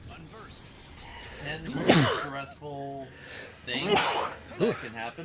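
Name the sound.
sneeze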